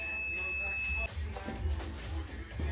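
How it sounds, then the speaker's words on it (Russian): A neutral-position sensor on a MAN truck's ZF 16S181 gearbox sounds a steady, shrill electronic beep for about a second, then cuts off, leaving low workshop rumble and handling noise. "Ставлю нейтральную. Все, запищало."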